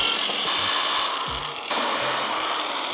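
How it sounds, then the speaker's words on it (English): A power drill whines steadily up close, pre-drilling holes in wood, its pitch shifting briefly as the bit bites in, with small knocks and scrapes underneath. "We're gonna pre-drill some holes."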